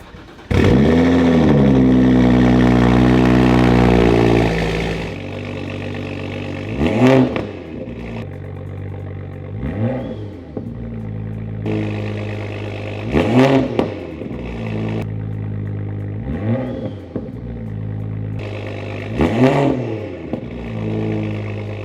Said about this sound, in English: get y'all a little bit of some revs, and so you can kind of see what it sounds like with the high flow catted downpipe